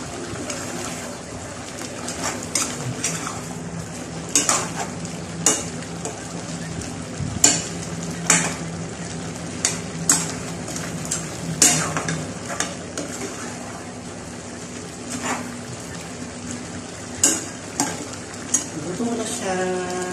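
A spoon scrapes and knocks steadily through pinakbet vegetables sizzling in a hot pan, the rhythmic stirring strokes close and clear over a continuous frying hiss.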